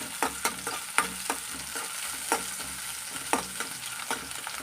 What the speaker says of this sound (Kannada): ಇವಾಗ ನಾನು ಸ್ವಲ್ಪ ಕಾದಿದೆ ಈರುಳ್ಳಿ ಹಾಕ್ತಾ ಇದ್ದೀನಿ ನೋಡ್ಬೋದು